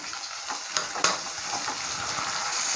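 Tomato pieces fry with onions in a pan, giving a steady broad sizzle with occasional stirring clinks and scrapes, close up and without talk.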